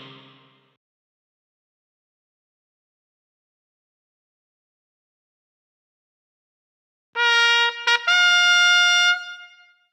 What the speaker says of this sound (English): You found the saxophone.